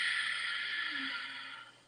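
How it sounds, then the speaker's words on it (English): A single long Ujjayi breath drawn through a constricted throat makes a steady oceanic hiss that slowly fades over two seconds, close and alone. "And there's another practice called Ujjayi Breathing."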